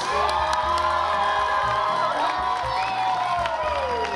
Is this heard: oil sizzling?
no